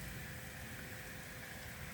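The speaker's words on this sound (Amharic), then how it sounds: "ዝናብ እየጣለ ነው።" Steady rain falls continuously, a dense even hiss with soft low patter throughout, close and unbroken, with no voices.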